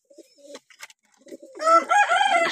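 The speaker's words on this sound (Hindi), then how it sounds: "अभी कबूतर वहाँ से नीचे आकर सभी अंदर से बैठ गए, ये बैठे सभी कबूतर भी अंदर" Pet pigeons settling inside their coop, with soft scattered rustles and short calls giving way to loud, close, warbling coos that roll on in overlapping throaty phrases.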